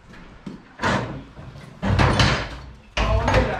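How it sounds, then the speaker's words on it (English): A door in a blacksmith's workshop is opened with several loud bumps and rattling scrapes in quick bursts, close and heavy, as if on rollers or a sliding track. "So I'll open this door."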